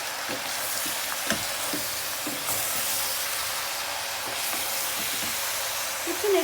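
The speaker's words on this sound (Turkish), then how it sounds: "10 dakika kavurup kavuracağız arkadaşlar bu şekilde karıştırarak da rengi dönene kadar kavuracağız bu şekilde." Lamb meat sautéing over high heat in a pan, giving a steady broadband sizzle with occasional soft clicks and scrapes from stirring, close and continuous with no talking.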